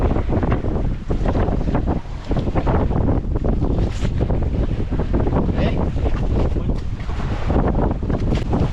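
Strong wind roars continuously into the microphone, a loud buffeting rush with gusts and no pauses.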